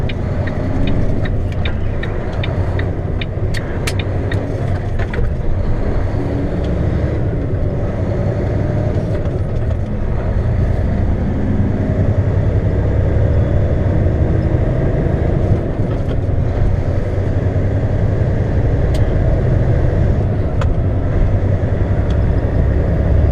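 A heavy-haul truck engine drones steadily while accelerating downhill in Pennsylvania, with a deep, constant rumble and road noise, holding a loud, unbroken hum for the whole stretch.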